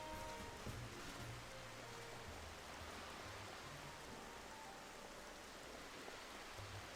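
Rain falls in the Xenoblade Chronicles video game, a soft, steady wash of hiss with a faint low rumble and a few tonal notes underneath, quiet and without speech.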